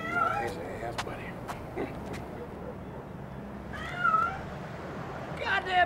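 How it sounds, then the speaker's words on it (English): A cat meows and caterwauls in drawn-out, wavering cries, several calls spread across the moment over a low background hum, fairly close, with some brief sharp noises between them. "Goddamn cat, shut up!"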